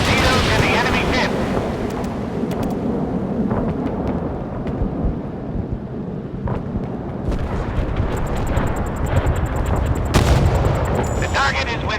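Naval gunfire in the warship game Force of Warships: dense, continuous booming blasts and rumbling explosions throughout, loud and close, with a heavier burst near the end.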